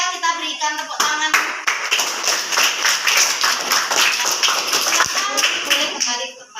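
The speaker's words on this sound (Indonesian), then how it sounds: "Kita berikan tepuk tangan." A classroom group claps hands together, a dense close burst of applause lasting several seconds, with some taps and shuffling at the start and end.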